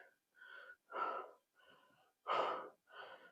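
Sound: heavy breathing, out of breath while climbing

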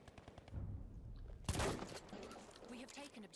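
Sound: gunfire in Battlefield 1 video game

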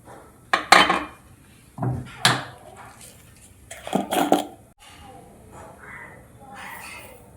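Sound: pan placed on stove and oil poured in, Kerala cooking

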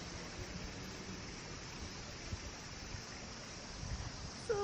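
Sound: river flowing in Tokyo

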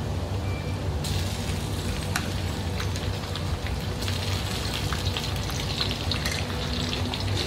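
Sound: shallots frying in a pan

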